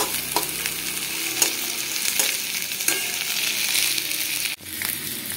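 Chili chicken fries on a high flame with a loud, close sizzle and repeated scraping stirs in the pan; the hiss drops sharply for a moment near the end, then picks back up.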